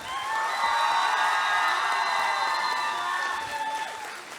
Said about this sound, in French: S'il vous plaît, applaudissez tout le monde très fort